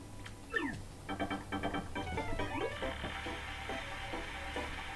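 A house cat meows several times close by, with rising and falling cries over a low steady hum and a few soft knocks.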